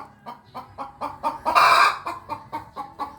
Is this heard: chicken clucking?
yes